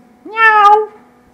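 A human voice imitates a cat's meow: one drawn-out, rising-then-falling mew, close and clear, alone in otherwise quiet surroundings.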